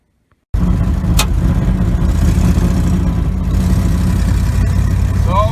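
A 1966 Chevrolet Impala, newly fitted with a 12-bolt rear end and 3.73 gears, drives along with a steady, loud engine and road drone throughout, broken by brief higher whines near the start and end.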